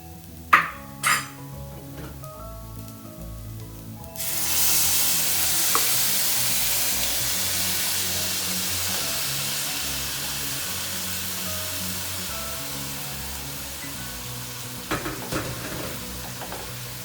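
Pre-boiled pork goes into a hot pan for a pork fry. A couple of metallic clanks come first, then a loud sizzle bursts in and holds steady, slowly easing, with a few utensil knocks near the end.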